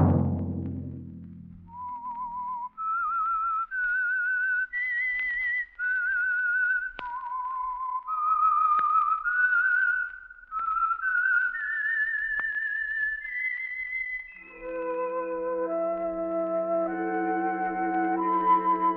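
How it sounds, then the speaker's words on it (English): A lone whistler performs the theme tune of The Whistler radio program, a slow, clear melodic line of sustained, gliding notes, close and solo, followed by orchestral chords entering near the end. "Let that whistle be your signal for the Signal Oil program, The Whistler"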